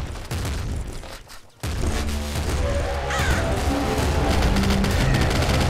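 Rapid bursts of gunfire and impacts from the roguelike shooter Nuclear Throne, dense and continuous with crashing hits and a brief dropout near the start, loud and busy game audio without clear talk.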